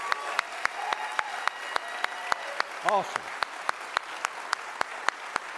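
Church audience clapping together in a steady, even rhythm of about three claps per second, moderately loud, with one brief spoken voice partway through.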